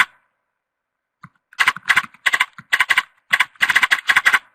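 Computer keyboard typing, a quick, close burst of clattering key clicks in clustered runs after a brief silence, with no talk over it.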